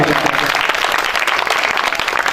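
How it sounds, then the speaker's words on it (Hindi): Congregation applauding loudly at a healing and deliverance church service, a dense, steady wash of many hands clapping close by for the whole stretch. "सब लोग जोरदार अपने लिए तालियां।"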